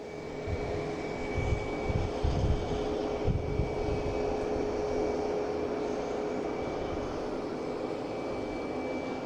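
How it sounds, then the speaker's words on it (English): Airliners taxiing at Boston Logan International Airport give a steady, loud engine roar with a sustained whine, filling the whole clip without pause. "They're going to have them just taxi down and get off the runways,"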